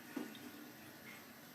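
Warm water running from a tap while a face is washed, a soft, steady trickle with a faint splash near the start, quiet and close, with no talk.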